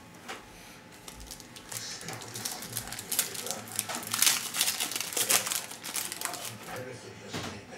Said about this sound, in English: rip open the packs, see who gets what, if anything